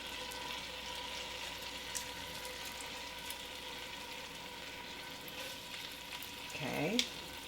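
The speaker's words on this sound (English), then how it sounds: "I'm gonna saute all these spices" Spices sauté in a pan with a constant, moderately loud sizzle and crackle, broken briefly near the end by a voice.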